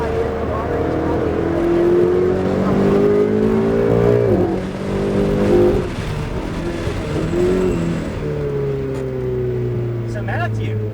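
Ferrari 488 sports car driving at Charlotte Motor Speedway, its engine droning steadily with rising and falling pitch as it accelerates and shifts, loud and close from inside the cabin, with people talking over it.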